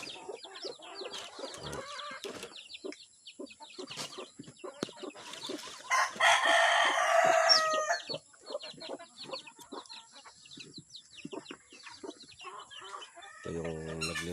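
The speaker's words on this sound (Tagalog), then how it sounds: "Ito yung naglilimlim natin ng manok." Chickens, including a brooding hen, cluck and chatter close by, with a rooster crowing loudly partway through and other farmyard noises around.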